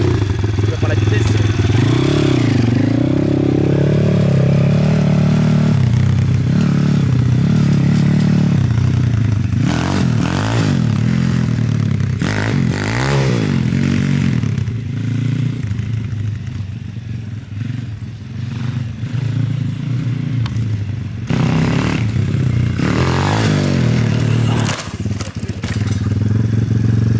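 A 150cc dirt bike engine revs and accelerates up close, pitch sweeping up and down through several bursts, with clattering and scraping in between, while a rider talks over it.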